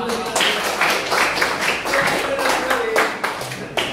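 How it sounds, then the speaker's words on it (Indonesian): A classroom of children clapping their hands together during a lesson, rapid uneven claps close by that fill four seconds. "Tepuk tangan."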